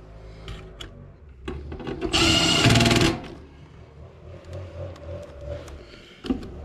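A power drill whirs loudly for about a second amid clattering and handling noises while working on a Trane air handler, then stops, followed by tool clinks.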